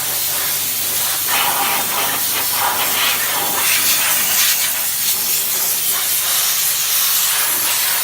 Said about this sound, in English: Now this is steam only, a very high pressure.